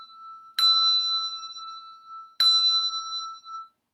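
Two handbells are struck one after another in a quiet studio, played four-in-hand. Each ring is a clear, bright strike that sustains and slowly fades.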